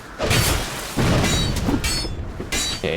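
Fire bombs burst in Dark Souls II: Scholar of the First Sin, loud booming blasts with crackling, shattering tails, several hits in quick succession over a dense, continuous din.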